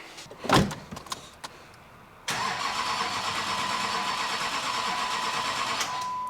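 A 6.6 Duramax diesel swapped into a Jeep Wrangler gives a brief knock, then fires up abruptly and settles into a loud, steady running drone close by, with no talk over it.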